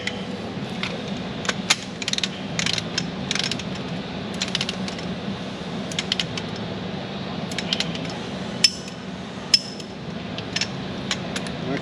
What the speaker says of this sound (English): we're going to torque this hold down